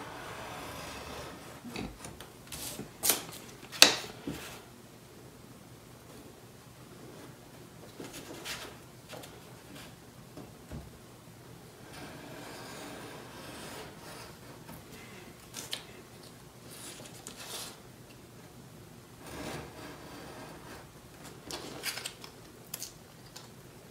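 A blade trims the paper skin along the edge of a model rocket fin, with intermittent short scraping and snipping sounds, close and fairly quiet, separated by pauses of near silence.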